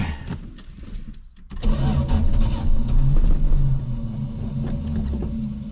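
A 1974 Plymouth Valiant with a weakening battery cranks and tries to start, with a brief clatter and a pause followed by a loud, rhythmic churning of the starter and engine that keeps going without catching cleanly.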